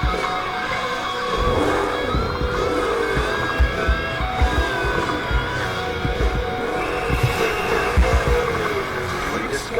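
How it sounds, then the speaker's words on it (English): Engine revving and accelerating in a racing video game, with a steady motor drone and bursts of tire noise throughout, fairly loud and continuous. "Hold the accelerator to fire up the engine."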